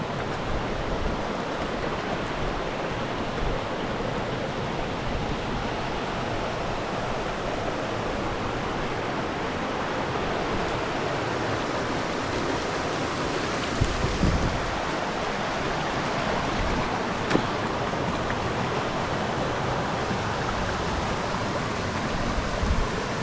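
Steady, unbroken rush of a small waterfall at Salat Dai, Nakhon Nayok, Thailand, a dense hiss that stays even and fairly loud throughout with no voices.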